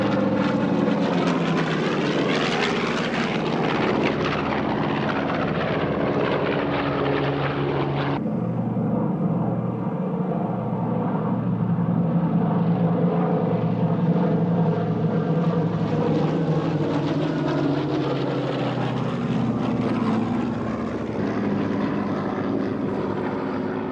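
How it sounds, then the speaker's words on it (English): Propeller aircraft flying in loose formation at a 1997 British airshow, with a loud, steady engine drone that shifts in pitch midway as the planes pass, no talk. "So here are some magnificent loose formations of these splendid aircraft."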